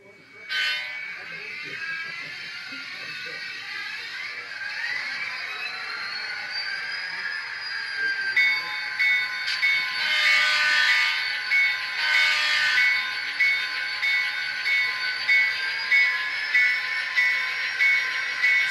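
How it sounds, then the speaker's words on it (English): Model railroad locomotives run on their track, giving steady horn-like tones and a sustained whine. A rhythmic pulsing grows louder and more regular as they get underway. "now Jason will run those locomotives for us"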